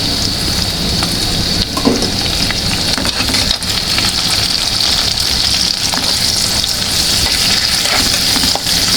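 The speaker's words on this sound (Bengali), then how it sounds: "আমি কড়াইটা বসায় দিচ্ছি তেলটাও দিয়ে দিচ্ছি পেঁয়াজটা দিয়ে দিচ্ছি আর দিয়ে দেবো লেবু পাতা" Onion and lemon leaves fry in oil in a wok, making a loud, dense, continuous sizzle like heavy rain, steady for the whole stretch with occasional crackles and no talk.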